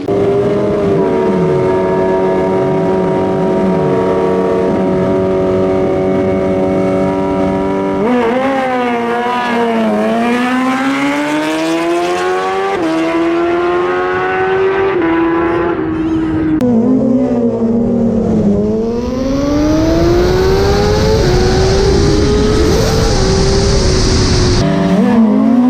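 A 2021 Kawasaki ZX-10R on a race track, its engine note climbing and dropping through repeated gear changes as it accelerates, loud and close throughout with a rising whine near the end.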